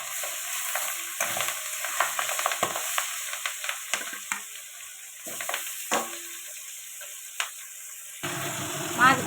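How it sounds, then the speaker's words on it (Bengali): Fish frying in hot oil for a taro, potato and fish curry, giving a steady close sizzle with scattered crackles and pops throughout and a low clatter near the end. "তেলটা গরম হয়ে গেছে, এবার মাছটা দিয়ে দেবো।"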